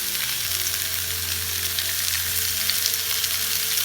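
Seasoned wahoo or tuna steaks sear in a hot pan, a loud unbroken sizzle with small popping spatters and a low hum beneath, with no talking.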